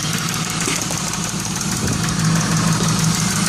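A car engine idling steadily while switched over to run on LPG gas, a continuous close mid-low hum with a faint knocking pulse and vibration throughout, no talking.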